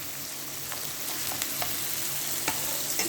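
Garlic with fresh and dried coriander frying in a pan, giving a steady soft sizzle throughout with a few faint clicks, alone without talk.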